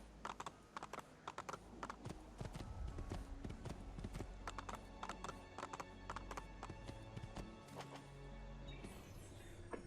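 Horse hooves clip-clop at a steady trot in Assassin's Creed II, set in Renaissance Italy, mixed with game ambience, clattering hits and a brief whinny, running continuously and fairly loud throughout.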